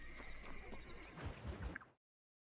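A horse in the video game Red Dead Redemption, played on PlayStation 5 Pro, whinnies in a long, wavering call, followed by a few low snorting thuds, then sudden silence.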